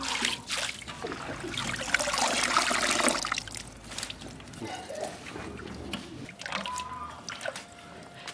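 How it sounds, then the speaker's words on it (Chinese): Dandelion greens are washed in a basin of water, with sloshing, trickling and splashing close by in uneven bursts as the leaves are rinsed repeatedly. "蒲公英上面有泥了，多洗几遍。"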